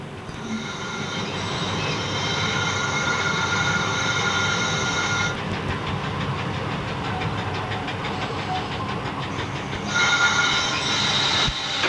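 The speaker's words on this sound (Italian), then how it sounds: "Il treno si ferma in stazione di Maiano." A regional train on the Sacile–Gemona line slows into Maiano station, wheels squealing loudly in sustained high-pitched tones over steady rumbling and clatter, heard up close from the cab.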